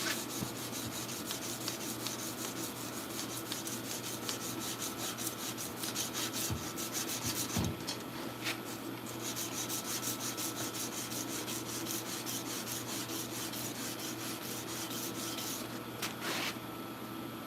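Someone hand sands a sword, producing a continuous, even rubbing and abrasive scrape close to the mic with a few faint knocks and clicks along the way. There is no talking.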